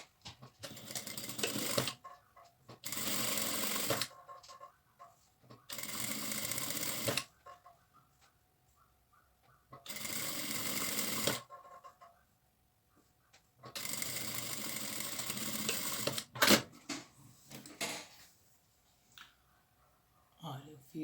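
Sewing machine stitching a slightly wider seam along a drawstring backpack-style bag to enclose the inner seam, running in repeated bursts of two to three seconds separated by pauses, close and moderately loud.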